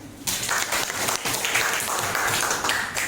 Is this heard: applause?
yes